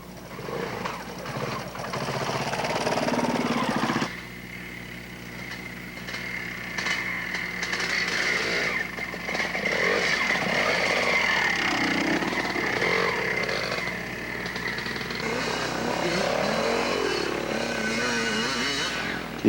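Dual sport motorcycles ride a wet, slick enduro course in McArthur, Ohio, in 1993, engines buzzing and revving loudly up close, with a brief drop in sound before the riding noise picks back up and continues.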